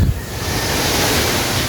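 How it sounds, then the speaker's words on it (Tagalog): Ocean surf washing steadily against the shore below a hotel room in Cebu, a constant broadband roar with strong wind buffeting the microphone and no voices. "Nasa gitna kami ng dagat"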